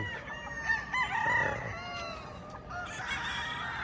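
Hens on a poultry farm clucking and a rooster crowing, several birds calling close by over a steady background of farm noise.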